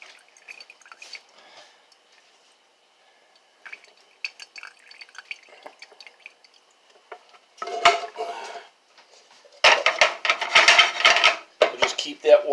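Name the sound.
draining grease from a cooking pan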